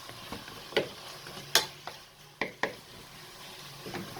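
Moussaka ingredients with green coriander are stirred in a pan, giving a faint background sizzle broken by several sharp scraping and clinking strokes of a utensil against the metal, with no talking.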